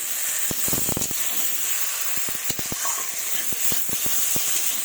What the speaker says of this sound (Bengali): তো দেখুন খুব সুন্দরভাবে ভাজা হচ্ছে